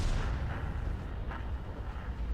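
Tank cannon fire in the World of Tanks video game, a heavy booming shot with a dense low rumble that sustains loudly through the short moment, with no voices.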